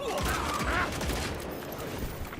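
Gunshots ring out in the video game Evil West on Xbox One, dense and loud bursts mixed with game effects and noise, with no talking.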